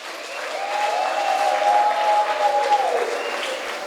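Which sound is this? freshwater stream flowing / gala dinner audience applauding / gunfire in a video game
gala dinner audience applauding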